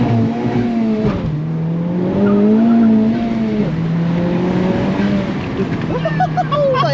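A turbocharged 2020 Honda Civic Type R drives with tires losing grip, its engine droning loud and close with pitch rising and dropping between shifts, and brief squealing near the end, with a voice present.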